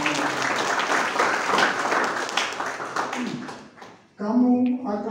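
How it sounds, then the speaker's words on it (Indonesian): Church congregation applauding during a Sunday worship service at a theological seminary in Tawangmangu, a dense wash of clapping for about four seconds that fades, then a voice speaks over music. "Tepuk tangan bagi Yesus yang menyelamatkan."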